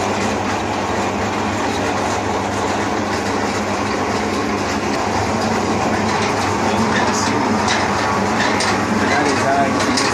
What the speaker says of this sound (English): This is the big boy, the extruder. It's powered on. We start the motor.